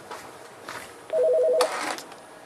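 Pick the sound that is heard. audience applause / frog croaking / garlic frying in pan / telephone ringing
telephone ringing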